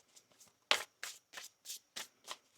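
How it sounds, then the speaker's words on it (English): Tarot cards being shuffled by hand in a quiet room, a run of about seven crisp riffling bursts in a steady rhythm, close and fairly soft with the third burst loudest, no talking. "One more shuffle here."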